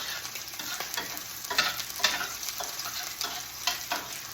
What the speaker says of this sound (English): these onions are just going to be slow cooked. So a little bit of onion with the oil